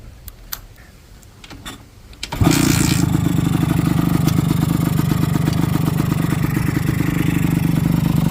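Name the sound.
two-stroke motorcycle engine starting and idling with DIY exhaust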